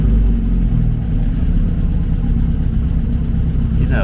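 An MGB classic car engine idling, a steady, loud low rumble with an even, slightly uneven-firing pulse, running alone without speech.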